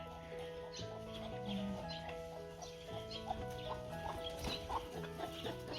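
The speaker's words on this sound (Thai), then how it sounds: "โอไก่ก็มีค่ะ" Chickens cluck softly at a farm with elephants, short scattered clucks and chirps in a quiet outdoor setting, fairly faint with no talking.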